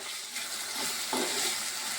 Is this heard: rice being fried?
yes